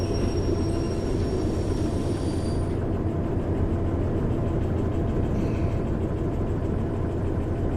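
A locomotive in the Derail Valley train game rumbles along continuously, a dense, steady rolling drone with a faint high whine fading out partway through, close and unbroken.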